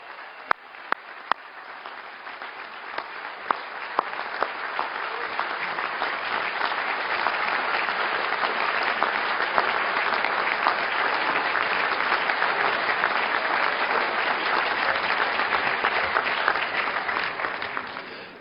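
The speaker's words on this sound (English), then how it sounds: "Get on your feet and give a round of applause for the one and only" An audience at an event on sports and racism gives a long standing ovation for Kareem Abdul-Jabbar, starting with a few sharp claps and swelling into sustained, dense applause that holds for over fifteen seconds.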